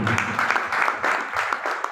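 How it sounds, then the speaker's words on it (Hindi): A crowd at a Bharat Vikas Parishad Krishna branch Bharat Mata ki Chowki gathering breaks into loud, dense applause, a continuous wash of many clapping hands throughout. "इसलिए भारत विकास परिषद के लिए भी जोरदार तालियां चाहूंगा।"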